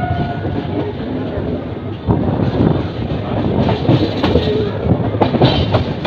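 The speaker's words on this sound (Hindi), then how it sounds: "अभी इस गाड़ी का डिपार्चर हो रहा है मांडल रेलवे स्टेशन से" Udaipur Intercity passenger train pulling out of Mandal railway station, loud and close, wheels clattering rhythmically over rail joints with a rumbling rolling roar that swells partway through, voices faintly audible in the background.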